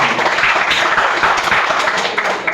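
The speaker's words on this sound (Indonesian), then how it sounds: "Ini tepuk tangan dulu ya" Audience at an Islamic school gathering claps in a dense, continuous patter that stays steady and fairly loud throughout, with no voices standing out.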